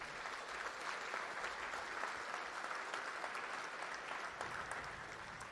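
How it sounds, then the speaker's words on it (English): Steady audience applause fills a hotel ballroom at an IMCA racing banquet in the Cornhusker Marriott, Lincoln, Nebraska, a dense even wash of many hands clapping without a break. "How about a round of applause for Speedway"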